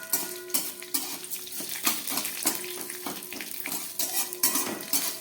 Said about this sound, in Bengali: আমি সব একসঙ্গে ভালো করে ভেজে নিচ্ছি।